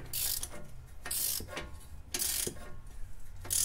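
Ratchet clicking in repeated bursts while tightening a nut or bolt during a SoloWerks coilover install on a Mk5 VW R32, close and fairly loud with short pauses between strokes.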